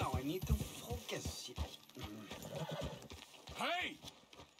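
In the video game Red Dead Redemption 2, a horse whinnies with a rising, wavering neigh while hooves clip-clop steadily, and voices talk over and between the sounds.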